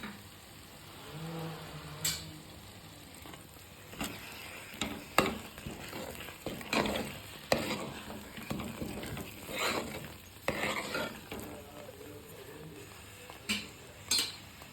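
Upma with lemon juice is stirred in a pan, a spoon scraping and clinking against the metal in uneven strokes over a low sizzle, close up and without speech.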